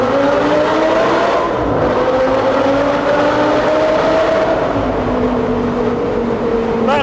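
A 2012 Audi R8 GT Spyder engine pulls hard in second gear, a loud sustained rising howl that climbs steadily in pitch from start to finish with no pauses.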